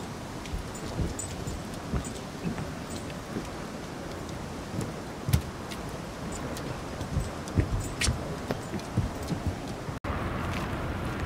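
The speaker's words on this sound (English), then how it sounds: "Looks like it's raining way over there." Steady rain falling in the distance, a soft continuous hiss with occasional faint drips and clicks, heard alone at low level.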